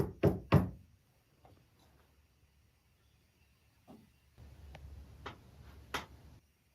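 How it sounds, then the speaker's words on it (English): Two sharp knocks ring out close and clear at the start, followed by near silence, then a faint low hum with a few softer taps and a final louder tap. "Here, I'll knock first."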